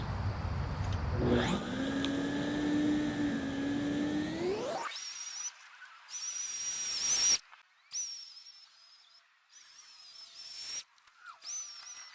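A Sun Joe AJ801E electric lawn scarifier dethatches grass: its motor whines up to speed, then holds a loud, close, high steady hum that roughens and dips in bursts as it works.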